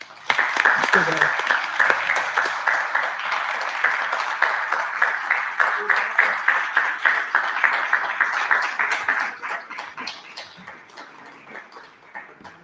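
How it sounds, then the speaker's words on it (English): Applause at a school board meeting, a steady round of clapping from the room that holds strong for several seconds and then thins and fades out toward the end. "let's give Julie a round of applause."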